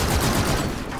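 A light machine gun fires in the video game R.A.W, a loud, dense burst of rapid shots running the whole moment without a break.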